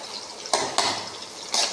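Onions are tipped into a pan and sautéed for a vegetable kurma, giving soft sizzling with a few sharp clatters of a utensil against the pan.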